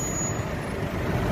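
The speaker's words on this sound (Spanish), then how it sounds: "Ahí está, gente, el camión de aquí en Londres." A city bus in London idling close by, a low continuous diesel rumble with a steady engine throb and no voices over it.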